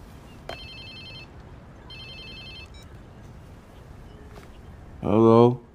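A mobile phone ringtone in the video game Watch Dogs 2 plays two short electronic chimes over steady background noise, followed by a brief voice.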